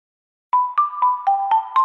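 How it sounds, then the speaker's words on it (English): The short sound logo of the Tulatero lottery app: a series of six bright, evenly spaced chime-like tones rising and stepping in pitch, clean and alone after a moment of silence. "That's the sound of luck and the sound of Tulatero."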